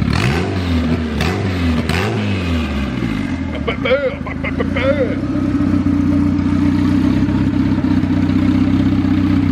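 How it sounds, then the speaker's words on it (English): A built turbo B16 engine in an EF Honda Civic hatchback, running slightly lean, settles into a steady loud idle after a few short throttle blips that rise and fall, with a voice speaking over the engine at the start. "I'm probably going to leave it idle here for a minute, get it nice and warm"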